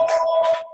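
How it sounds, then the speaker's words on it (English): A mobile phone rings briefly nearby, a steady electronic tone with two short warbling bursts, fairly loud and clear with no talk over it. "that's my phone."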